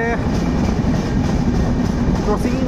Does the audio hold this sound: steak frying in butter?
no